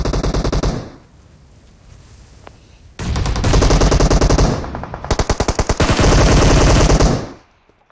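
Automatic gunfire in a PUBG Mobile firefight comes in loud, close bursts of rapid shots with short quiet gaps between them, with no talking.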